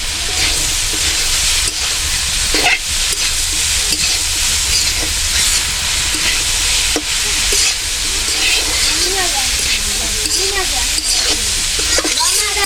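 Shredded cabbage frying with cumin in a pan, a loud continuous sizzle with occasional stirring scrapes and knocks, close up, with faint voices underneath toward the end.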